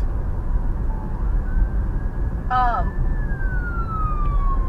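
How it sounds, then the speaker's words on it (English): An ambulance siren wails at a moderate distance, its tone rising and falling, with a short warbling burst partway through over steady traffic noise. "Ambulance. Ambulance."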